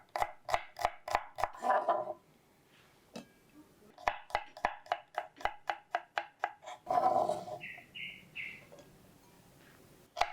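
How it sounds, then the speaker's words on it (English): Knife slicing shallot on a cutting board, sharp regular chops in quick bursts with pauses between, close and loud, a brief higher tone near the end. "we're going to slice the shallot,"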